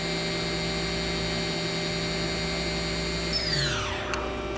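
A Mori Seiki horizontal machining center with a 14,000 RPM Cat 40 spindle and coolant through the spindle hums steadily with a high whine, then its pitch sweeps sharply downward near the end as the spindle winds down.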